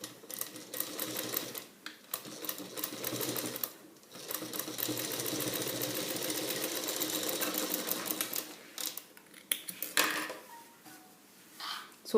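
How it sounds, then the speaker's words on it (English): A sewing machine stitches fabric in quick mechanical bursts, a close rattling whir that runs for several seconds, pauses, then starts and stops again in shorter runs. "So for now I will just stitch this part alone to understand it better."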